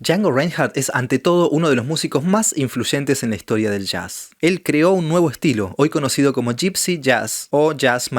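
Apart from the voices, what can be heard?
No everyday noises stand out.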